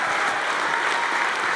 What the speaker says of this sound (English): Let's give all 25 people a big round of applause.